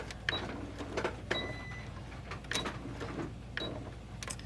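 A sewing machine stitches in short bursts with pauses between them as the fabric is pivoted with the needle down, each burst a close, moderately loud mechanical whir, repeated about five times.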